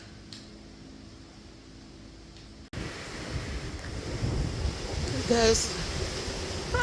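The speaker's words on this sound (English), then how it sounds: "it is so windy today." Strong wind buffets the microphone outdoors as a steady roaring gust noise that swells after a quiet opening, with a voice speaking briefly over it.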